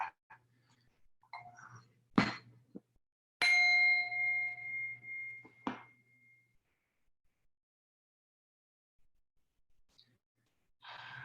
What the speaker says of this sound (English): I think I have a bell here, so we can use that.